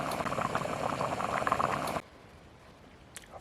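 Water bubbles in a lidded pot on a camping stove at a park campsite, a steady loud boil that cuts off abruptly, leaving near silence with one faint click.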